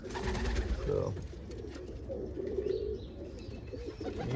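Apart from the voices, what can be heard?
Almond pigeons cooing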